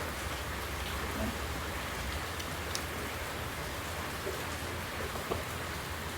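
Steady rain falling in bad weather, a dense even wash of drops on surfaces at constant moderate loudness, with no talk over it.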